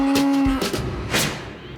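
Dairy cows heading back to the barn after milking give a short, close moo that cuts off abruptly, followed by a few muffled shuffling thuds and stirrings.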